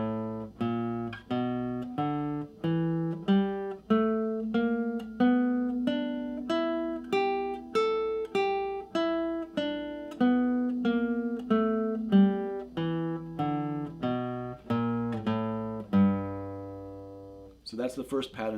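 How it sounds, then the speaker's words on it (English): Guitar playing the first pattern of the E blues scale, single plucked notes in a steady rhythm stepping up and back down, close and clear with no talking. "This is the E blues scale"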